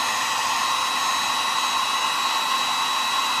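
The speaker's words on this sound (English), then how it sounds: "I'm aiming my hair dryer away from the paint and away from the brush" A hair dryer blows steadily close by to dry paint on a carved wooden bird, a constant, loud whooshing hiss with a faint whine that holds unchanged throughout.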